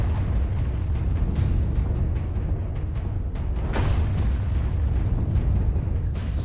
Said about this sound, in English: Oh, cannon. Okay, we have a cannonball again.